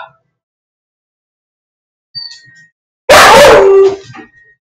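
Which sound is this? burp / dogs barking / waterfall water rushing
dogs barking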